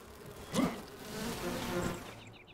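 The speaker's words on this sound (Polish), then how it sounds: "Jeden rój pszczół zabity, jeszcze ten drugi został" A bee swarm buzzes in the video game Enshrouded, a faint hum that swells with one louder close pass early on and then lingers softly, with no talk over it.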